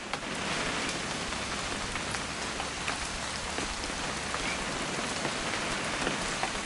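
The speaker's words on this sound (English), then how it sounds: "It's gonna rain the whole weekend" Steady rain patters on a hard surface in the video game What Remains of Edith Finch, a dense even hiss of drops with no voices.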